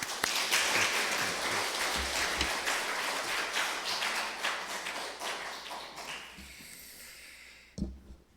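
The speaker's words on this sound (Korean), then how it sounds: "우리 박수로 환영하겠습니다" A church congregation at a Sunday worship service in Ssangmun-dong applauds in welcome of a guest giving testimony, dense steady clapping that fades out over several seconds before a brief thump.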